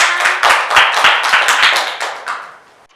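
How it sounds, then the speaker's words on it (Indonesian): Classroom applause after a student group presentation, a small crowd of hands clapping steadily and close for about three seconds before thinning out and stopping. "Sekali lagi tepuk tangan."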